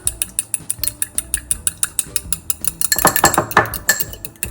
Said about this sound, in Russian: Затем возьму 1 яйцо. Немножко посолю, размешаю